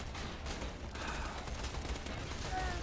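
Enemy gunfire in the Borderlands 2 video game, a steady muffled crackle of many shots at low level, with scattered bursts and a voice briefly heard in the mix.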